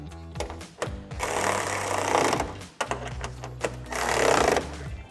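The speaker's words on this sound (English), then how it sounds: "So we'll take a 13mm socket and tighten these down." A ratchet with a 13mm socket tightens hood bolts on a 2016-2023 Toyota Tacoma's TS-style carbon fiber hood, making two loud bursts of rapid clicking separated by a few short clicks and taps.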